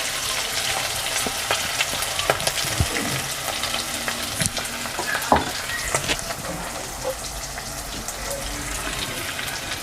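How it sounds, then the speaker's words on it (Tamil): Chopped onion drops into hot oil with green chilli for a vadakari gravy, giving a continuous close sizzle and hiss with intermittent stirring scrapes and crackles throughout, no voices. "இப்போ நறுக்கி வச்சுருக்கிற வெங்காயம் போட்டுக்கிறேன்."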